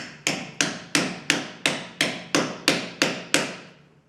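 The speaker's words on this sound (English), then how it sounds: "So now with a hammer, and you can use just a regular carpenter hammer for this, I'm going towards the back here and then just hammering." Carpenter hammer striking a Ford Model A engine head, ten sharp, evenly spaced blows, each with a short ringing decay, loud and close with no talk.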